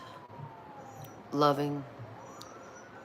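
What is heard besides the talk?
sirens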